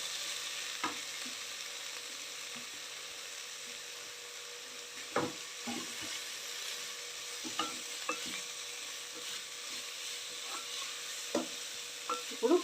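A spoon stirs grated carrot through rice in a frying pan, giving intermittent scraping clicks and a soft sizzle over roughly thirteen seconds, sparse at first and busier near the end, with no voices.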